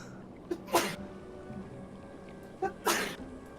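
Two distinct human sneezes about two seconds apart, fairly close and brief, each a sharp burst over quiet room background.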